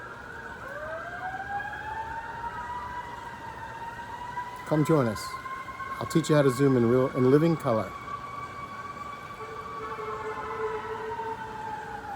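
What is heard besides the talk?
fading siren sound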